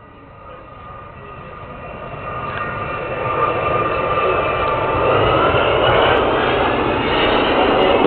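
Avro Vulcan XH558 bomber flying at an airshow, a deep, broad jet roar that swells steadily as the aircraft draws nearer, loud and continuous with no talk.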